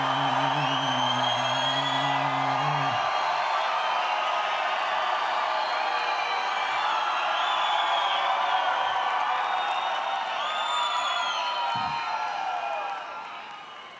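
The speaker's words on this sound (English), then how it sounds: "Let us cheer for them even louder than they were cheering for you" A large crowd at the Lausanne 2020 Winter Youth Olympic Games closing ceremony cheers and whoops loudly and continuously for volunteers, with scattered clapping and a brief low voice at the start.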